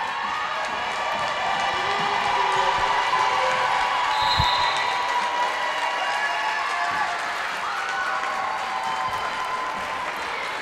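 Crowd applause and cheering fill a gym at a high school girls basketball game between Mountain Iron-Buhl and Maranatha Christian Academy, steady and loud throughout with faint ball bounces and shouts.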